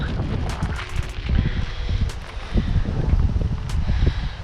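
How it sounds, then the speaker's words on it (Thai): Strong wind blowing outdoors, gusting and buffeting against the microphone in rough rumbling surges, punctuated by brief sharp cracks and flaps, with no speech. "ลมแรงมากครับผม"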